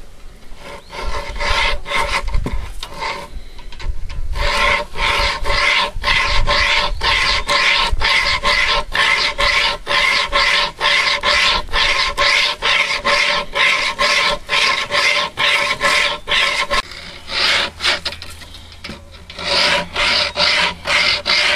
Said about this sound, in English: it does a pretty smooth job of cutting through dead wood